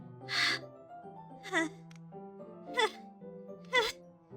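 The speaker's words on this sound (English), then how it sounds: "Sharp inhale like someone is sucking in the air through their teeth." Four sharp breathy inhales, like air sucked through clenched teeth, come at roughly one-second intervals in the Doki Doki Literature Club video game, layered over a soft, steady musical drone.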